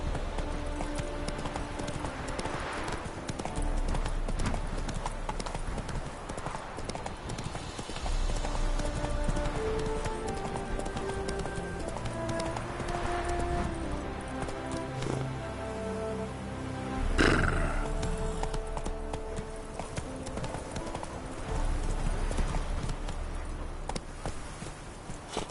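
Roach, the horse in The Witcher 3, gallops in a steady clip-clop of hooves for the whole stretch. Game music and ambience play underneath, and there is a brief louder swell near the middle.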